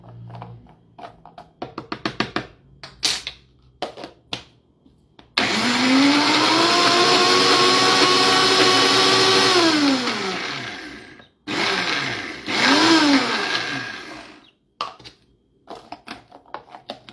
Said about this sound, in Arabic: نطحن كله.